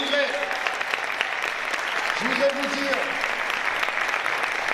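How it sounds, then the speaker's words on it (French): Audience applause at a live eloquence contest final in Bordeaux greets a speaker coming on stage, a steady wash of clapping with a brief tonal sweep partway through and faint voices underneath. "Je vous demande un tonnerre d'applaudissements pour Maras qui va venir me rejoindre sur scène."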